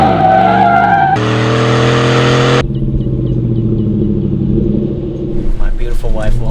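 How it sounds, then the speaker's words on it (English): A 500 HP Hennessey Tahoe doing figure eights roars loudly up close, engine note rising and falling as tires squeal in long sustained skids, with voices shouting over it near the end. "Ever seen a Tahoe do figure eights?"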